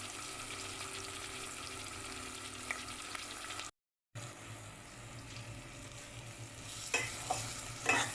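Half a tomato frying in a pan gives a soft, steady sizzle with faint stirring scrapes, briefly cut off and then resuming, with a few small clinks near the end.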